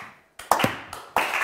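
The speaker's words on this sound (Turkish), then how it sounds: "Üzgün alkış." A few sparse hand claps, slow and scattered rather than full applause, close by and fairly loud.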